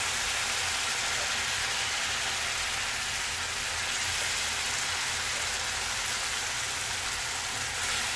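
Moth bean cooking water is poured into a hot pan of chilli. It sets off a steady, hissing sizzle that stays even and fairly loud throughout.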